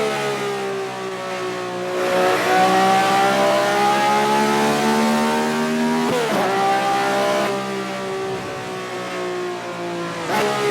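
A race car's engine in a driving game on a racing track wails loudly and steadily, its pitch rising through the gears with a brief shift break midway, and there is occasional tire squeal.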